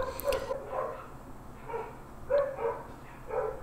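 Dogs bark in the background at a distance, several faint woofs spread across a few seconds with no talk over them.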